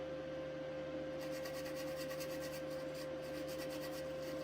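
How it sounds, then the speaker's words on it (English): Light strokes of a Scotch-Brite pad rub rapidly across an engine part during a 7.3 Powerstroke ICP and high-pressure pump job, a faint, close scratchy scuffing over a steady background hum. "We'll do a little Scotch-Brite just lightly."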